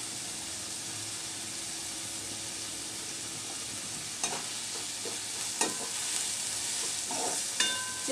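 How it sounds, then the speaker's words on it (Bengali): Shrimp seasoned with turmeric and salt fry in a pan with a steady close sizzle, broken by a few spatula scrapes and stirring knocks in the latter half. "চিংড়ি মাছটা ভাজা ভাজা করে নিব।"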